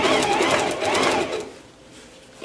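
Sewing machine stitching a circle blouse, a quick rhythmic run of needle strokes for just over a second that then stops, leaving quiet handling noise.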